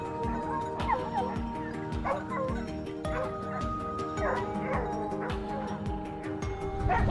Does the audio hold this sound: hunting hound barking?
yes